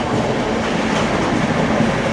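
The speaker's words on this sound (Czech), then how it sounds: "Tady jede prostě nákladní vlak teď pod náma." A freight train passing directly below, its steady rolling roar and rhythmic clickety-clack of wheels on rails filling the scene, loud and continuous with no voices.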